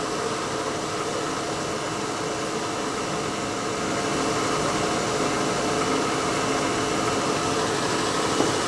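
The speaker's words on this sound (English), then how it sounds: "now we're going to center drill here" A milling machine center drills a small steel vise stop part, giving a steady whirring spindle hum with a faint broadband hiss that holds nearly constant throughout, with no talking.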